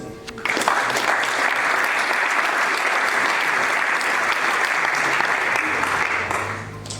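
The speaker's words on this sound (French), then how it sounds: "Vous ne me permettez pas de vous demander d'applaudir encore une fois l'équipe des rédactions." An audience at an awards ceremony gives sustained, full applause for the editorial team. The clapping holds steady for several seconds before fading, with some voices faintly audible.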